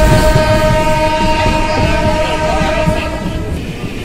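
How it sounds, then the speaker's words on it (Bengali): A moving Maa Tara Express passenger train on the line out of Sealdah, heard from inside as a loud, steady rumble with a sustained horn tone running through most of the stretch and no talking. "শিয়ালদা দিয়ে যেতে গেলে সবচেয়ে ভালো ট্রেন এই মা তারা এক্সপ্রেস"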